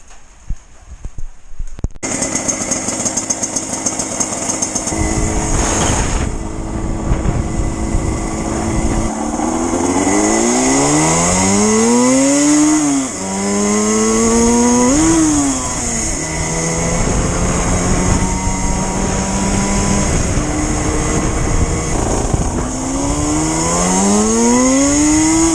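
Huskzuki 200 T2 single-cylinder motorcycle on a test ride, the engine starting then rising and falling through repeated loud revs and gear changes, close and continuous with rushing wind, no talking.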